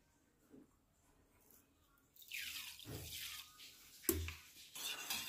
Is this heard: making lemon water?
yes